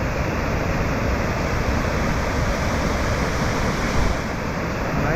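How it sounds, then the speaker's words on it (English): Loud, steady roar of rushing water in a creek among sculptured granite boulders at Babinda Boulders, a dense continuous wash filling the scene with no voice audible over it. "Probably barely hear me over the noise of the water."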